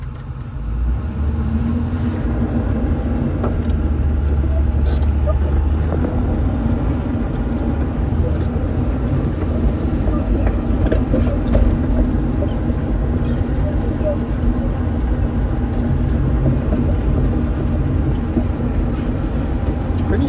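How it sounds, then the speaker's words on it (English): A beat-up machine's engine, out on a steep, slick hilltop, runs loud and steady throughout with a constant heavy rumble as throttle is applied, without a distinct rise in pitch. "Would that auto decel kick back in? I'm gonna give it some throttle."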